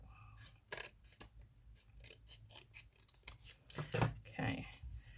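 Scissors cutting through thick lining material: a string of quiet, crisp snips and crunches at an uneven hand pace, growing louder and fuller toward the end, with no speech.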